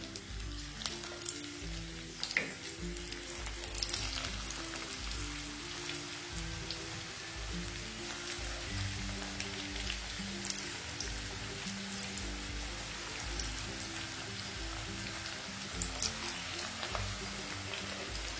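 Small pieces of cabbage pakoda deep-frying in hot oil, a steady dense sizzle and crackle that stays constant throughout, close up with no voices.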